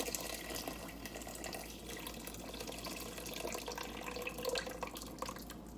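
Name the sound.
water being poured into a soup pot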